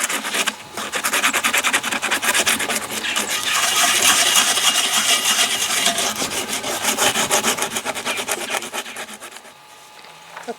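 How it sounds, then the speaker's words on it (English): Steady, vigorous scrubbing of surface rust off a cast iron pan, a dense continuous rasping scrape with rapid back-and-forth strokes, loud and close, easing off briefly near the end. "We'll just keep on scrubbing and get as much of this surface rust as I can"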